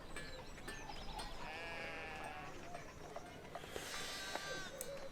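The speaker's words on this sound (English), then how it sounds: "There's a sheep. No, that's Andreas. So many sheep." Sheep bleating in the medieval video game Pentiment, several wavering calls from more than one animal at moderate distance over a faint outdoor ambience, one loud bleat standing out near the end.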